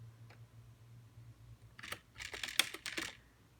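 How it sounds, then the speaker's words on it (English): Quick keystrokes on a computer keyboard while a name is typed in, a brief cluster of light clicks and taps over about a second and a half, close and fairly quiet with no talking. "so you type in a name"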